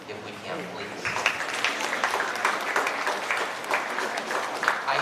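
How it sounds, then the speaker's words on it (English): Audience at a middle school promotion ceremony applauding for the parents, a moderately distant, steady round of clapping lasting the whole stretch with light crowd murmur. "I would like to have a round of applause for the parents, if we can, please."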